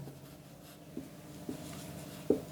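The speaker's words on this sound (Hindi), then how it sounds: "थोड़ा सा बड़ा लिखते हैं" Handwriting on a page during a maths lesson: a few soft, brief pen strokes scratch against paper in short isolated bursts over a quiet room tone.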